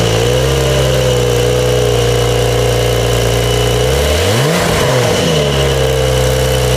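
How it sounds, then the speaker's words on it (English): A 2020 Porsche 911 Carrera 4S with a rear-mounted 3-liter flat-six and 8-speed PDK idles steadily, then gives a sharp rev that rises and falls around the middle before settling back to a loud, close idle. "this beauty is powered by a 3-liter flat 6 in the rear"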